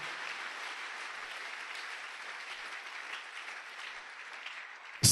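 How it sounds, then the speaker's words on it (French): Steady, dense applause from a church congregation fills the space evenly for several seconds, a continuous wash of many hands clapping with no voices over it, ending in a brief loud bump. "Est-ce que vous pouvez aussi mettre vos deux mains ensemble pour vous acclamer?"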